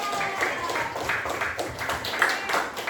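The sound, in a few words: children applauding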